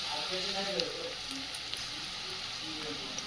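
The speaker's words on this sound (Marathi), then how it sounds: "छान कुरकुरीत होईपर्यंत ही भजी तळून घ्यायची आहेत" Onion and crab-style bhaji fritters deep-frying in oil, a soft, even crackling sizzle with small pops, fairly quiet and steady, with no talk.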